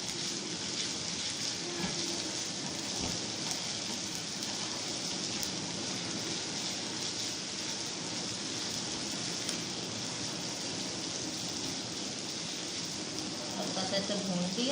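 Onions and ginger garlic paste sizzling in a pan, a dense, steady frying hiss that stays loud and even throughout, with occasional faint stirring.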